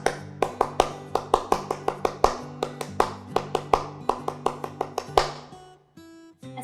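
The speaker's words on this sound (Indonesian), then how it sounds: "marilah kita bersama-sama melakukan tepuk pramuka. 2 kali tepuk pramuka." A group performs the Indonesian scout rhythmic clap, tepuk pramuka, twice at a school scout event: a long run of crisp, sharp claps in a fixed patterned rhythm with brief pauses, ending abruptly and followed by quiet room tone.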